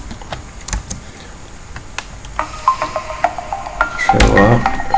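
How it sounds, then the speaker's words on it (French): Keyboard typing on a computer during a penetration test, a steady run of light, quick key clicks that grows busier and louder toward the end, with no talking. "je vais taper SMB client"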